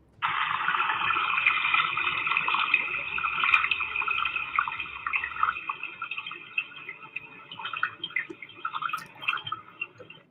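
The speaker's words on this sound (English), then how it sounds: "That sounds like boiling water." Water bubbling and hissing like a kettle or pot coming to the boil, a continuous fizzing wash that slowly breaks into sputters and drips toward the end, heard on its own without speech.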